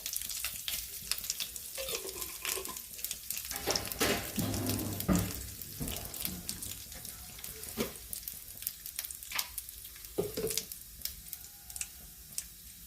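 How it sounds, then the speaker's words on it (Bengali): Panch phoron spices fry in hot oil, making a close, continuous sizzle broken by frequent small pops and crackles, with light clinks of stirring. "তেলের মধ্যে একটু পাঁচফোড়ন দিয়ে দেবো।"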